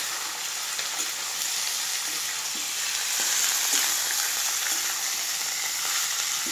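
Goat skin fries with onions in a pan, a steady, fairly loud crackling sizzle that swells slightly midway, with faint stirring taps.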